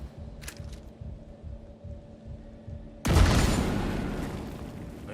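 A grenade detonates in The Division 2, a sudden loud boom about three seconds in that decays into a long rumbling, crackling tail, following quieter game ambience with faint background clatter.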